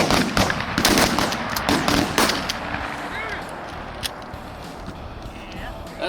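Several loud, sharp gunshots crack in quick succession at an outdoor pheasant hunt, followed by a quieter stretch of open-air background.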